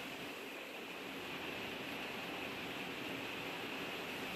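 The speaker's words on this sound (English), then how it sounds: "Massive amounts of rain." Heavy rain falls steadily in Northwest Oregon as a soft, even hiss heard from inside a garage, faint and constant with no talk.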